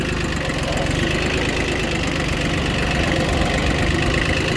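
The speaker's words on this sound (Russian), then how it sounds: "Соответственно, тракторок спокойненько ползет" An ISEKI TU1500F mini tractor crawls along in a low gear, its small engine chugging and knocking steadily at close range with constant vibration and no pauses.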